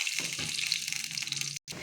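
Tamarind water is poured into a hot kadai of oil and spluttered mustard seeds, giving a steady, close gushing stream that cuts out briefly near the end before resuming.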